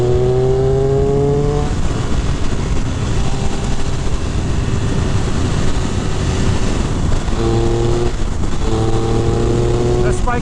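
A Triumph Speed Triple RR 1200 motorcycle riding on a highway, with steady loud wind roar and engine drone throughout, and engine tones rising and shifting near the start and end.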